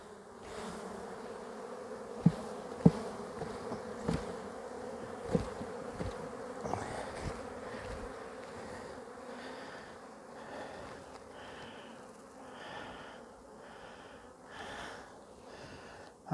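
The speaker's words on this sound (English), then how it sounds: "I've got a lot of bees right here." Honey bees swarm around an open hive during a re-queening and hive-combining job, a steady dense buzzing drone that runs throughout, with scattered sharp close clicks and knocks from handling frames in the first half.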